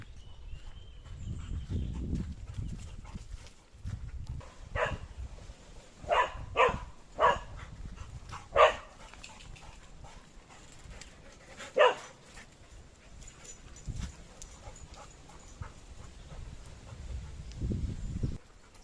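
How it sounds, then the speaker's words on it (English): Three intact male dogs bark in a series of sharp barks, some in quick bursts, mixed with low grumbling and whines at moderate distance. "Or they're barking back at him."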